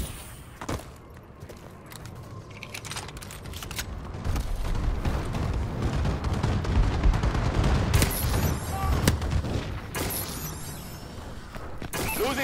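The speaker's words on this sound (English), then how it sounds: "Friendly bombing run clearing the way." Friendly bombing-run explosions in a video game on the Kremlin map: a dense, continuous roll of heavy booms and gunfire-like blasts that swells louder partway through and stays loud to the end.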